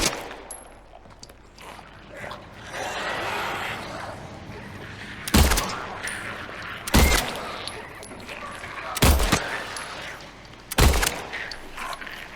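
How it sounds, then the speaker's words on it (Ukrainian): Four sharp, loud gunshots ring out in the Silent Hill 2 Remake video game, spaced unevenly about two seconds apart over a low, murky in-game ambience. "Так, там два набої вистріляли."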